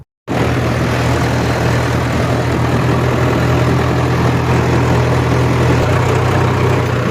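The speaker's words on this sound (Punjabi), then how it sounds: "ਹੁਣ ਵਿਚਾਲੇ ਖੜੀ ਸੀ ਹੁਣ ਚੱਲੀ ਹੈ ਟ੍ਰੇਨ" A train starts moving at a railway level crossing, with a loud, steady engine drone rising out of a brief silence and holding constant nearby.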